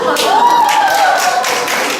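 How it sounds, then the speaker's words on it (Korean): Audience applause at a Korean knowledge forum, a continuous, loud patter of clapping hands filling the room evenly, with a faint voice or tone drifting over it. "큰 박수 한번 부탁드립니다"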